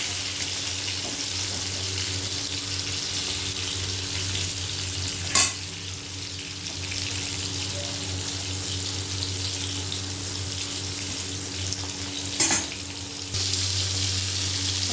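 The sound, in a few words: frying pointed gourd (potol) pieces in pan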